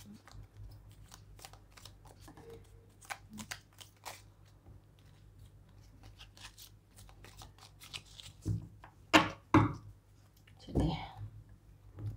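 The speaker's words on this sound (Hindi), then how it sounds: "कैरियर के कार्ड्स निकाल देते हैं आपके" Tarot cards shuffled and drawn by hand for a reading: a run of crisp, irregular card flicks and snaps, close by, growing louder and busier toward the end, with a voice speaking quietly under some of them.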